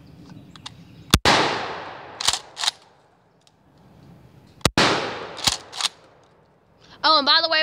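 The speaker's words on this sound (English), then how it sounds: "we're shooting with birdshot" A 12 gauge shotgun loaded with birdshot fires two loud, sharp blasts several seconds apart outdoors, each followed by a rolling echo, with brief voices and clatter in between.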